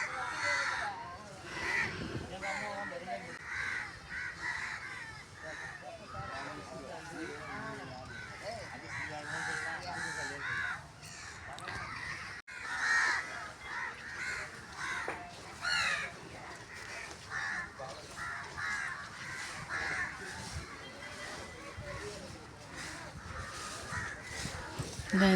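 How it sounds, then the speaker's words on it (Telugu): A dense flock of crows caws and calls continuously around a dargah, harsh overlapping cries filling the air at close to middling distance, with a speaking voice woven through parts of the scene. "ఈ దర్గా స్పెషల్ ఏంటంటే పావురాల కన్నా కాకులే ఎక్కువ ఉంటాయి దోస్త్"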